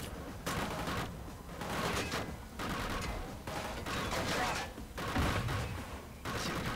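Bursts of assault rifle fire in the shooter Killzone Shadow Fall, rapid sharp cracks repeating in several short volleys with brief gaps between them, loud and close.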